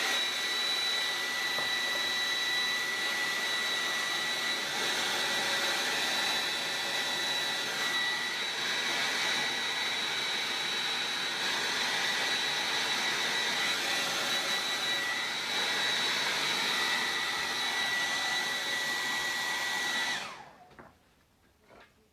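A hair dryer blows steadily and close for about twenty seconds, drying chalk paste on a piece of wall decor, a constant whirring hiss with a thin whine, then clicks off into near silence.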